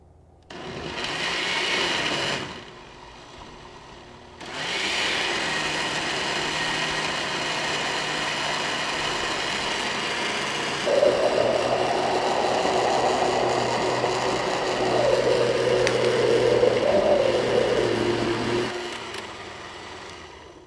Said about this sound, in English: We're going to turn on the blender.